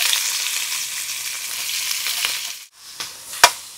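Onions frying in a pan for crab gravy over an outdoor village cooking fire, a steady loud sizzle that briefly drops out, then a few stirring scrapes and a sharp clink.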